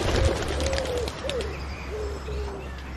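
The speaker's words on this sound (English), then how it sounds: "I'm not over keen on pigeons" Pigeons coo in a series of soft, low repeated calls at moderate distance, with background outdoor noise and a few faint chirps.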